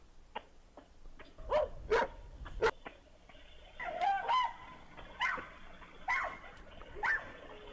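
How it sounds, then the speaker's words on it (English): A dog barks repeatedly in loud, irregular bursts close by, with a fowl-like squawk mixed in among the barks. "You hear this fucking dog, man? He's pissed."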